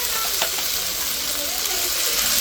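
Chili, ginger and cumin paste fries in a hot pan with a steady, dense sizzle throughout, a brief sharper crackle near the start, no voices.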